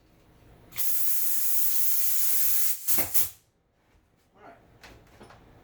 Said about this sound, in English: Yeah, my hose busted.